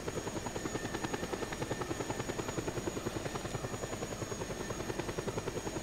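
Loud, close helicopter in flight, the rotor beating in a rapid even chop with a constant engine whine underneath, and nobody speaking.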